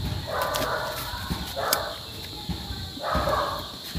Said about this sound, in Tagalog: Ingay ng aso ng kapitbahay namin